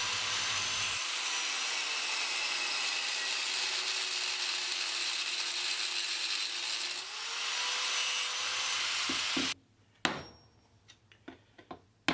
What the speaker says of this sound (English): getting the coils out means cutting down that weld line